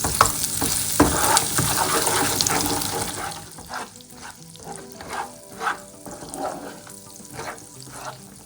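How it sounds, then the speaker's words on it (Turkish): Oil poured into melted sugar caramel in a pan and stirred, giving a loud bubbling sizzle at first that fades into quieter stirring scrapes and intermittent spoon knocks, with no talking. "Gözletmeden üzerine bir çörek kaşığı kadar dolusu yağ ilave edip karıştırmaya devam edin."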